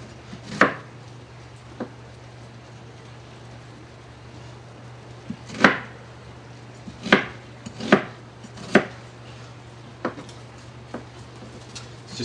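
A knife chopping vegetables into chunks for pork chili verde, a handful of sharp, separate thuds on a cutting board spaced irregularly over a low steady hum, with no talking.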